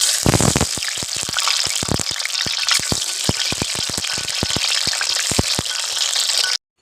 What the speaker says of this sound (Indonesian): Temene dulu tak goreng